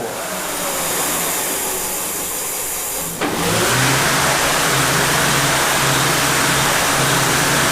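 A home-built e-bike with a Bafang 52V 1500W mid-drive motor runs at high speed, its wheel spinning fast. A loud, steady mechanical whine jumps up in level partway through and then holds, with no one talking.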